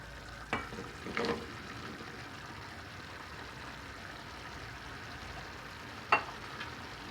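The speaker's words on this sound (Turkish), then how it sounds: "Güzelce karıştırıyoruz." Okra, chicken and tomatoes being stirred in a pan, with a faint steady simmer punctuated by three soft scraping stirs near the start and later, no talking.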